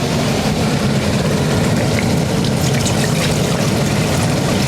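Water pours steadily and loudly into a pot, a continuous rushing splash without pause.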